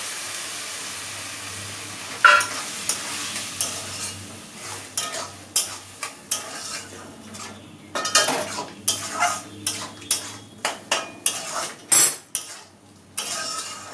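Spices and pressure-cooked mung dal with banana flower fry in a pan, a low sizzle under repeated sharp spoon scrapes and clanks against the metal, coming in quick bursts through most of the stretch; no talking.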